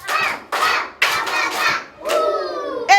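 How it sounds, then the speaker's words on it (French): Schoolchildren in a classroom clap for themselves in several loud bursts of group applause, broken by brief pauses, with children's voices and cries mixed in toward the end. "Est-ce que vous pouvez applaudir pour vous-même?"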